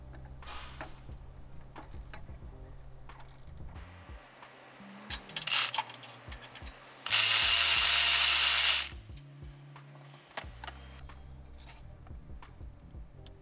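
A 13 mm wrench working the top bolt off an exhaust clamp with a backer bolt on a first-generation Chevrolet Sonic/Cruze turbo install, with irregular metallic clicks and ratcheting, then a loud steady whirring burst of a power tool, close up.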